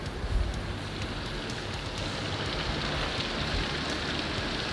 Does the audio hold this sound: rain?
yes